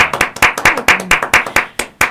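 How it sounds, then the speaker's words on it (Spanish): Audience clapping to welcome a guest, a couple of nearby hands beating in a fast, uneven rhythm, loud and close with sharp individual claps and no talk. "aplausazo."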